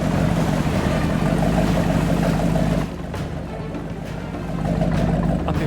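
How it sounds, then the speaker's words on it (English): A boat motor drones loudly and steadily, dipping briefly in intensity midway before rising again, with a low rumbling hum. "I've been brought in by boat,"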